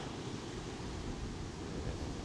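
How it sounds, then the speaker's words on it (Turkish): Large ocean waves at Surin Beach, Phuket, form a steady, loud roar of surf and wind with no break, filling the whole stretch without any voices. "Hayatımda gördüğüm en büyük dalgalar"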